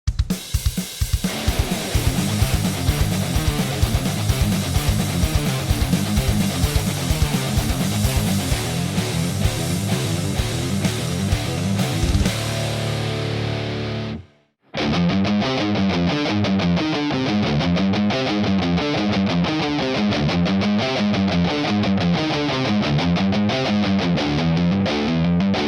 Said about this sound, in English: With this riff you will practice alternate picking, more specifically 16th notes at 128 BPM